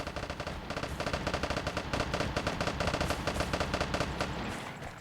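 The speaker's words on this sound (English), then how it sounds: "So I heard some gunshots, right?" Sustained automatic gunfire from the survival shooter game Vigor, a steady rapid rattle of shots at moderate distance running for several seconds without pause, with no talking over it.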